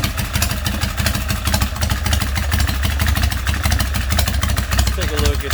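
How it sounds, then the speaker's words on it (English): A Harley Big Twin Springer bobber idles close by through an exhaust with added baffling in the rear section. It makes a loud, lumpy, evenly pulsing mechanical throb with clattery texture throughout. "it was just too loud before, so I did put a little bit of baffling in the rear part of the exhaust."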